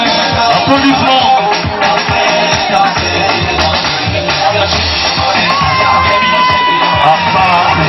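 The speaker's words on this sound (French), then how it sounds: "Applaudissements pour eux." Guests at a civil wedding of the Fofana couple cheer, shout and whoop in a loud, dense crowd din that holds steady throughout, with rhythmic clapping mixed in and voices calling over the top.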